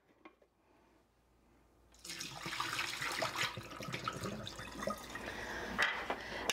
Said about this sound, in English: empty out our water reservoir.